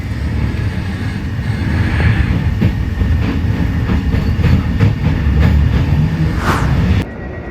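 A train rumbles steadily along the rails with a low continuous roar and faint rhythmic clacks, heard from inside, with a brief squeal near the end as it stops at Bratislava main station.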